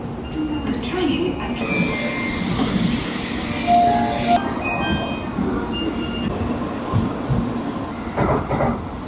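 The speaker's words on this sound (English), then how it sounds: "The train" A Japanese train running on rails near Nagoya, a continuous loud rumble and rattle of wheels heard from inside, with brief squeals and a voice speaking over it.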